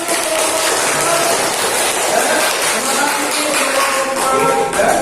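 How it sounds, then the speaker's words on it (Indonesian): A class of students applauds during a science lesson, with dense, steady clapping that runs loud and unbroken for the whole stretch. "Oke, tepuk tangan."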